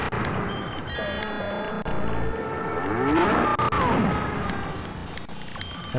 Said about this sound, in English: That sort of donkey bray there that you're hearing occasionally, that's me successfully shooting one of the flowers off